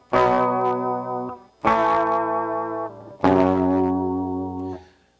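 Music played through a JavaScript three-band equalizer with the treble raised for a brighter tone, heard as three sustained harmonic phrases, each lasting over a second, separated by short gaps, loud and clear with no talking.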